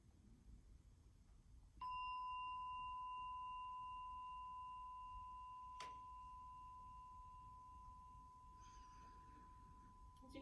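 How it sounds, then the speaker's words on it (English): A single meditation bell strikes and rings out with a pure sustained tone that slowly fades, followed by a second lighter strike, in a quiet room. "As you hear the sounds of the bells"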